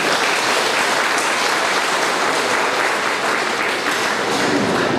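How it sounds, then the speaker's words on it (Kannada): Long, dense applause from an audience at a high school alumni gathering, loud and continuous from start to finish with no pauses. "ಸ್ನೇಹಿತರೆಲ್ಲರೂ ಇವರನ್ನು ದೀರ್ಘ ಚಪ್ಪಾಳೆಯೊಂದಿಗೆ ಅಭಿನಂದಿಸಬೇಕು ಎಂದು ನಾನು ಕೇಳಿಕೊಳ್ಳುತ್ತೇನೆ"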